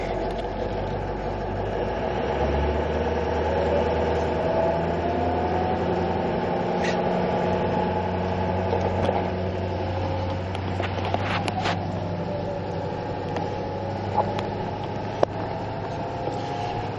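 A 2006 Ford F550 truck engine runs while driving up a road, a steady low drone with road rumble throughout and a few faint clicks, fairly close with no talking.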